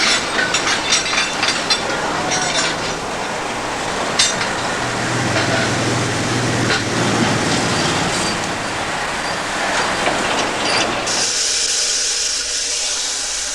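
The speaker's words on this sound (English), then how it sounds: "their last 2 steam locomotives, both reduced to the unglamorous job of shunting wagons up to the cane crushers" A steam locomotive at a Philippine sugar mill rumbles and clanks steadily while shunting cane wagons, with scattered metallic knocks and hiss, wagons rolling slowly nearby; the noise shifts to a brighter hiss near the end.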